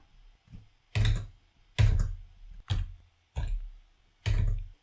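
Five separate bursts of computer keyboard typing, sharp clustered clicks spaced about a second apart, close and clear against a quiet background.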